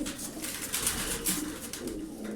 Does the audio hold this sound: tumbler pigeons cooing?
yes